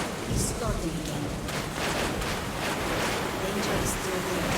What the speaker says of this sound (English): Storm. Yes, the storm. He's starting again.